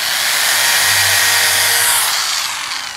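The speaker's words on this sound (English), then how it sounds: "This is a high-speed drill." A high-speed drill whirs at full speed, driving into wood while building a birdhouse, a loud, steady close whine lasting a few seconds before easing off.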